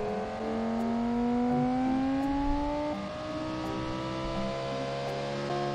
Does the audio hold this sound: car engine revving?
yes